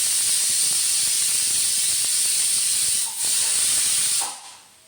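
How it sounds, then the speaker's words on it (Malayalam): A pressure cooker whistling as it vents steam, a loud sustained hiss that holds steady, dips briefly, then fades away at the end. "അപ്പോൾ നമ്മുടെ കുക്കർ 1ാമത്തെ വിസിലടിച്ചു"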